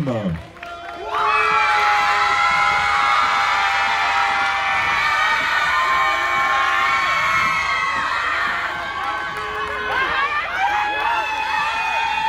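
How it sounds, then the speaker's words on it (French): Crowd at a Miss & Mister Robinson pageant during a guinguette festival, loud cheering, whoops and shouts over applause, sustained and close after a brief opening lull, with voices mixed into the din. "on peut les applaudir très fort pour leur travail"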